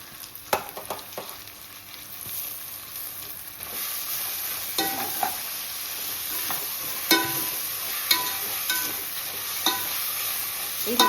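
Onions and green chillies sautéing in a pan for mint pulao, a steady close sizzle broken by regular stirring clinks and scrapes of a spatula, with no voices.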